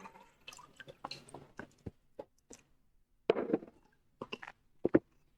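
Water poured into a drinking glass at a TypeScript conference talk gives a series of short splashing, dripping bursts with gaps between them, close and fairly quiet in an otherwise still room.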